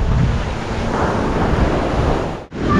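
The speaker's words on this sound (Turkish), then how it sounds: "Buranın böyle dalgası o kadar güçlü ki çarptığı zaman böyle her yerinizi ıslatıyor." Strong sea waves crash and surge continuously on a shore in Bali, a loud, close roar of water and spray with wind buffeting the microphone and a brief dip near the end.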